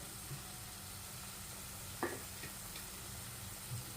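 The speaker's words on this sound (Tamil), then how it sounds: "தக்காளி ஊற்றி கொஞ்சம் கிரேவி வதங்கணும்" Tomato masala gravy frying in a pan for a field bean masala dish gives a faint, steady sizzle, broken by a couple of soft utensil clicks and light stirring scrapes.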